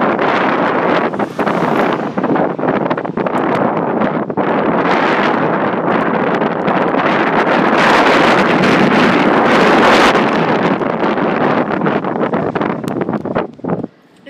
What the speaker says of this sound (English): the wind is so strong out there. It's just ripping it up.